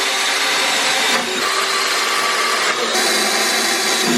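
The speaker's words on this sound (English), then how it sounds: "I'll get those holes drilled" A power drill whirs loudly and continuously while drilling holes in a Toyota Tacoma truck bed, with two brief dips in pitch and strain.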